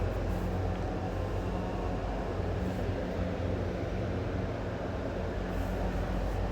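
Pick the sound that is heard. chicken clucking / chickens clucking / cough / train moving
train moving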